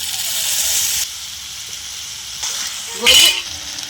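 Tomato and spice paste sizzles in hot oil for a silver carp fish curry, a steady frying hiss with a louder burst of sizzling near the end.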